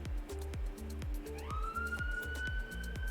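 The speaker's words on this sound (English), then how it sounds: "More sirens." Minecraft siren sounds, a wailing tone sliding upward and holding, heard over a steady rhythmic pulsing background of repeated low thumps, fairly faint throughout with no talk.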